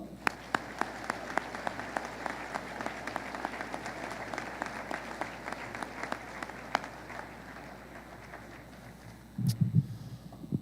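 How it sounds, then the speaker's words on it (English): A school assembly audience of students and guests applauds veterans with a steady, fairly distant rattle of many hands. The clapping fades after a while, and a brief muffled thump follows near the end. "Hornets, round of applause."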